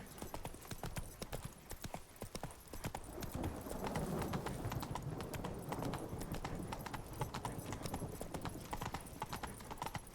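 Horse hooves gallop at a steady rhythmic clip-clop in The Witcher 3: Blood and Wine, the quick repeated beats continuing throughout at moderate level without speech.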